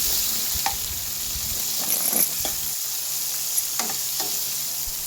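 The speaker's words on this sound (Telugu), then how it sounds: "అందులోకి కొద్దిగా తెల్లగడ్డలు దంచి వేసి బాగా వేయించుకోవాలి" Onion, curry leaves and crushed garlic fry in hot oil as a tempering for red onion chutney, giving a close, steady sizzle with occasional soft scraping clicks from stirring and no voices.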